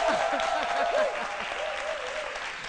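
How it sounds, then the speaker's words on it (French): Studio audience at the C'Midi television show on RTI 1 applauds in a continuous, fairly even roar of many hands, slowly easing in level, with a voice talking over it at the start. "merci de vous applaudir encore une fois"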